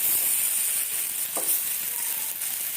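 Plantain slices sizzle steadily in hot oil in a pan, a continuous close frying hiss with faint bubbling and no voices.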